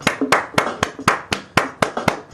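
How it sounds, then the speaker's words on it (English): One person claps hands in a steady rhythm, about nine sharp, close claps at even spacing with no crowd behind. "We applaud you for your work."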